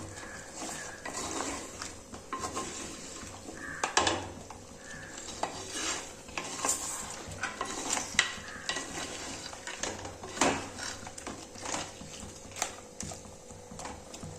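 Crab and potatoes cooking in masala curry in a pot, stirred with a utensil that clinks and scrapes against the metal over a low simmering sizzle, near and untalked-over.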